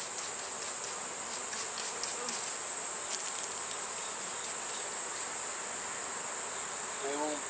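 Honeybees buzz around a hive, a dense steady high-pitched hum from many insects close by, with a few louder passes of individual bees and no talk.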